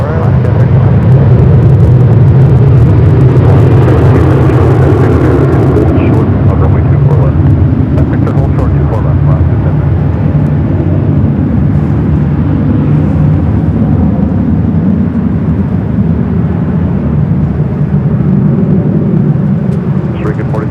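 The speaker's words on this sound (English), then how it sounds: "Next takeoff, 24 left." A jet takes off from runway 24 left at LAX, its engines a loud, sustained low roar that holds throughout while people talk over it.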